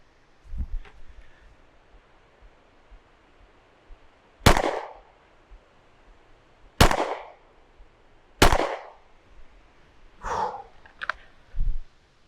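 Gunshots during outdoor target practice: four or five loud, sharp cracks spaced a couple of seconds apart, each with a short decay, over quiet background and faint rustling.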